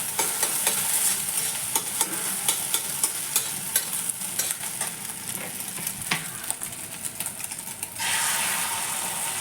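Eggs frying in oil in a pan, seasoned with soy sauce, sizzle steadily with repeated sharp scraping and tapping strokes of a spatula, close and fairly loud, with a brief louder hiss of fresh batter hitting the hot oil near the end.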